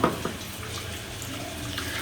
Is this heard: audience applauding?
no